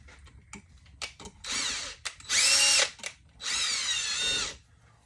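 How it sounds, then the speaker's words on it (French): A cordless battery drill drives screws into rifle scope rings on a Browning BAR rifle, with a few clicks and short whirs followed by three longer close-up bursts of whining motor, the last two loudest. "On sort d'une drill à batterie."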